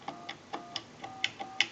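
Rotary dialing on a restored Western Electric 317 wooden wall crank telephone: a run of evenly spaced clicking pulses, close and fairly crisp, with no voices.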